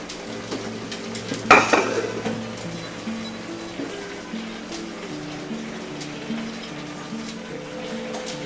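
Paella cooking in its pan, a low steady sizzle and bubbling with a sharp utensil clatter early on, continuing evenly and close.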